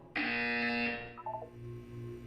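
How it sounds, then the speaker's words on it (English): Loud electronic buzzer from the Portal 2 video game, a harmonic tone held for about a second, followed by a few short fainter beeps over a low background hum. "You will hear a buzzer."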